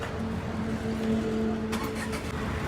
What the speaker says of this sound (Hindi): अब आप इसको गाड़ी को बंद करो और मैं एक बार वहाँ सुनाता हूँ, क्योंकि वो बाय डिफ़ॉल्ट सीएनजी पर आ जाएगी ना